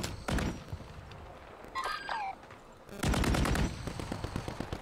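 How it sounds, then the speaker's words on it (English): Gunshots in a shooter video game, with a quick burst near the start and then a louder run of rapid shots that crack close by after a short lull. "that was a nice little shot right in front of you"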